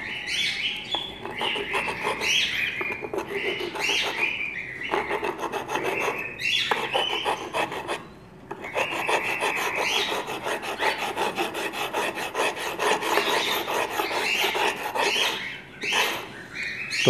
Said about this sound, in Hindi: मैंने इस पत्थर के साथ इसको घिस रहा हूँ